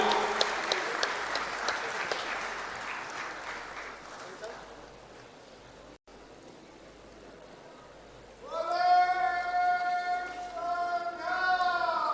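Applause from a crowd at an interfaith religious gathering in Vatican City, a burst of clapping that fades out after a few seconds, followed by speech.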